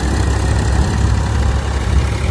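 A heavy diesel tractor engine rumbles steadily at close range on a farm, a deep, continuous throb with no voices.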